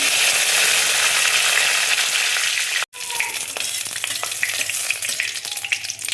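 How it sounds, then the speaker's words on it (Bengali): Curry leaves hit hot oil with mustard seeds in a pan, and a loud, close, crackling sizzle continues steadily after a brief silent break. "কারি পাতা দেখো দিয়ে দিচ্ছি।"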